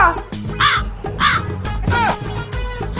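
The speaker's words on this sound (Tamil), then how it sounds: "இது கிளி இல்லடா காக்காடா காக்கா" A crow caws loudly and nearby, giving about four harsh, rasping calls in quick, uneven succession. No one talks.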